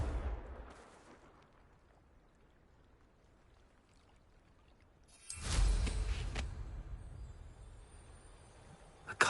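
A Confringo spell is cast in Hogwarts Legacy. After a quiet stretch comes a single loud, crackling blast that rumbles and decays over about a second, with a sharp smaller burst at the very end.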